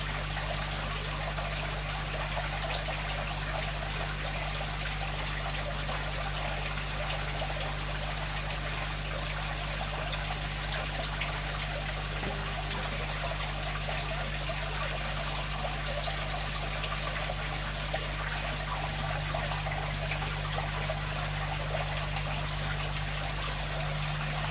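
Aquarium water trickling in a slow, steady drip while new shrimp are acclimated in a tank with a matten filter, a continuous soft watery dribble over a low pump hum.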